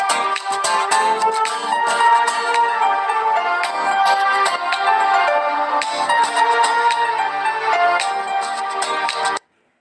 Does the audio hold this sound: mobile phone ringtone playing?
yes